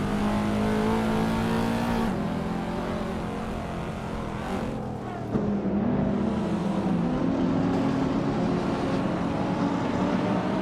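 A Porsche 962 LM race car in a racing video game, its engine droning loudly with shifting pitch as it revs and changes gear, steady and close throughout.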